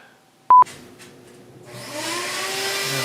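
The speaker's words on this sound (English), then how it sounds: "Of course, she turns on the vacuum right now." A household vacuum cleaner switches on in the next room of a woodworking shop, rising into a steady loud whirring drone after a couple of short beeps and clicks.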